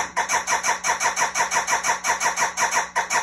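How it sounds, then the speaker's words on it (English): A sampler app plays a loop cut very short and repeated fast, giving a buzzy, synthesizer-like pulse that throbs evenly about five times a second and holds steady throughout, with no talk over it. "if you do it on a faster cut like this, it kind of sounds like a synthesizer"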